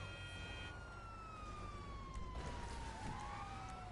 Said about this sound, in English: when we're driving along, can you not have your sirens on?